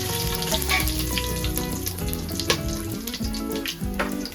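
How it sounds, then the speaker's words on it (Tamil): Steady crackling sizzle of tempering spices frying in hot oil for vegetable biryani, close and continuous, with occasional sharper pops and a faint clink. "இப்போ பார்த்தீங்கன்னா நம்ம அதெல்லாம் தாளிக்கிறதுக்கு தேவையான தாளிப்பும் எல்லாம் போடுறோம்"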